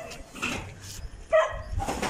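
Sick dogs in a house letting out a few short, faint barks and yips, scattered unevenly across a brief moment with no talking.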